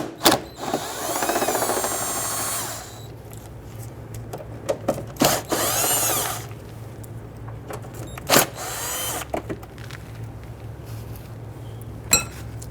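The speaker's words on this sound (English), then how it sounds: "We're going to use our 7mm socket and remove the remainder of the screws." A power tool with a 7mm socket drives out screws from the fender trim of a 2007-2014 Cadillac Escalade in several short whirring bursts, mixed with clinks and handling noises of parts and tools nearby.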